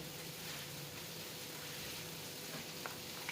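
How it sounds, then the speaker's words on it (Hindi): Steady sizzling of spices tempering in hot oil for a curry, a soft continuous crackle and hiss with faint pops, heard alone at low level. "अभी मैं उसका तड़का जो है वो कर रही हूँ"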